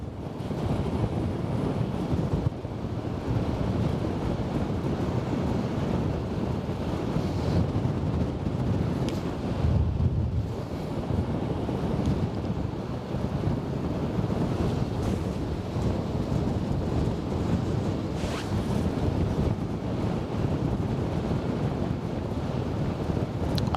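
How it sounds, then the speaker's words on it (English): Strong wind by the Westerschelde waterfront in the Netherlands, a loud steady roar buffeting the microphone nonstop with water washing underneath and no voices. "The wind is really picking up more and more."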